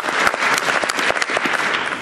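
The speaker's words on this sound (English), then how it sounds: "Round of applause," A short burst of audience clapping at a media industry roundtable, with many hands clapping densely and fairly loudly for about two seconds.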